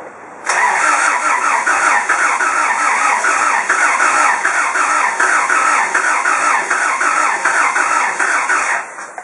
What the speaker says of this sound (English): As you can hear, it's only firing on 1 or 2 cylinders, it's not firing on all of them.